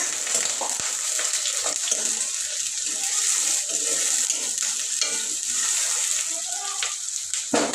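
Mushroom curry being stirred in a hot oiled frying pan with sliced onion, a steady sizzle broken by scraping stirs and occasional clinks, close and fairly loud throughout.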